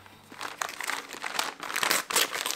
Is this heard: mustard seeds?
no